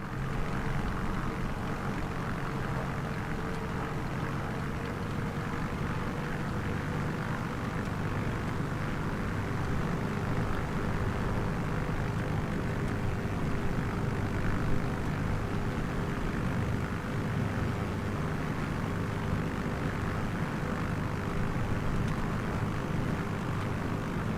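A small propeller airplane drones steadily overhead above a grassy patch, a constant close engine hum with a faint steady tone that holds without break throughout.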